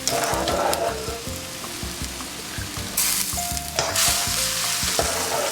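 Linguine lifted straight from the pot of boiling water into a hot pan sets off a steady, loud sizzle and frying hiss, with a few clattering knocks of tongs and cookware over it.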